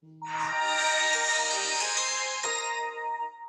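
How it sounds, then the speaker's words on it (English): A phone ringtone plays indoors, a loud, steady electronic melody with rich harmonic tones that holds for about three seconds, briefly dips, then continues, with no voices over it. "It's my phone, that."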